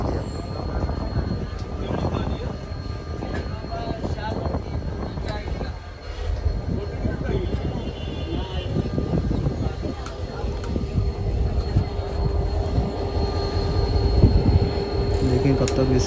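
A train pulls out of a station after its whistle, a steady rumble of wheels and cars with squealing and clanking, continuous and fairly loud, with distant voices and platform noise mixed in.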